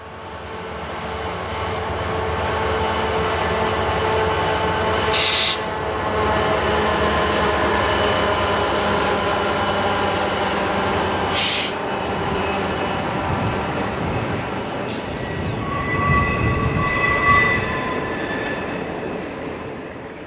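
Union Pacific freight train with DDA40X Centennial and SD40 diesel locomotives rumbling through Cajon Pass, a steady loud engine drone and rolling roar with occasional brief high squeals, no voices.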